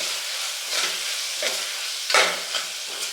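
Coriander powder and garam masala being stirred into vangi bath, an eggplant rice dish, in a hot pan: a steady sizzle with repeated scraping strokes of the spoon, close and fairly loud, with no talking.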